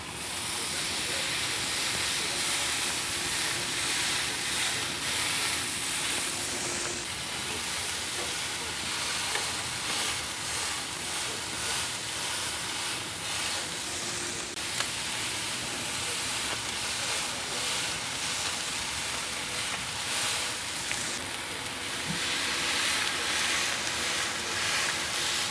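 Ribeye steaks on a Hasty Bake Legacy grill give off a dense, steady hissing sizzle that continues loud and unbroken throughout.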